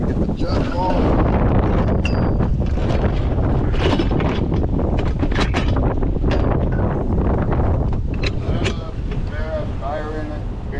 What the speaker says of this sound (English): Man, it's windy out here.